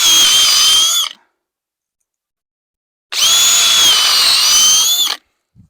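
A power drill bores pilot holes for screws in wood while building a chicken pen, running in two loud steady bursts of about a second and two seconds with silence between.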